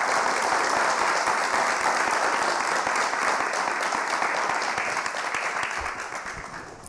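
A large audience gives loud, sustained applause to welcome speaker Guillermo Moreno, a thick wash of clapping that holds steady and only eases slightly toward the end.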